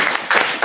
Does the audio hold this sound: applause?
yes